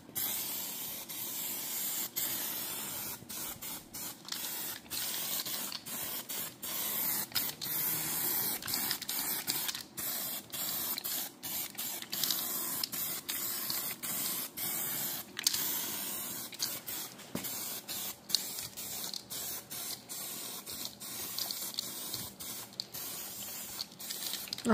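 A paint spray gun applies ERA paint to the rear end of a Ford F100 in a steady, close hissing spray broken into repeated short passes with brief gaps.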